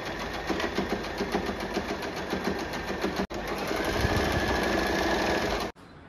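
A domestic sewing machine stitching cotton fabric runs in a steady, rapid mechanical whir with a regular stitch rhythm, close and loud, stopping briefly partway through, then resuming, then cutting off again near the end.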